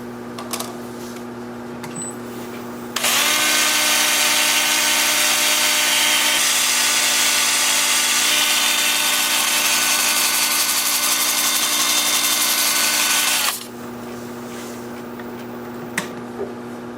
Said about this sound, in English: I'm going to start sanding at 80 grit with my 2-inch disc sander